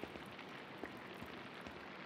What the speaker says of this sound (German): Es regnet schon.